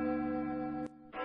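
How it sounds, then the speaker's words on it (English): A church bell tolls a knell in a Macbeth scene, ringing a sustained, resonant tone that fills the clip. A brief gap interrupts it before the ringing resumes, with no talk. "Hear it not, Duncan, for it is a knell that summons thee to heaven or to hell"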